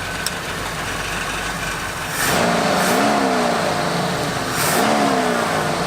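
A steady mid-pitched idle from an abandoned Ford Bronco engine that sat ten years in storage, running on old fuel with adjusted mixer screws, close and continuous, with a slight rise and wavering as the idle shifts.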